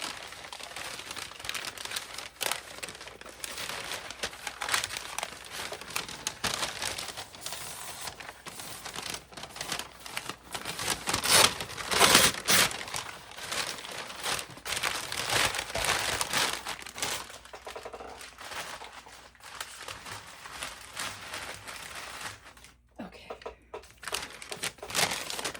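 Brown packaging paper for a mini junk journal is crumpled and crinkled by hand for a long stretch, with dense, irregular crackling close up that swells loudest midway and dips briefly near the end.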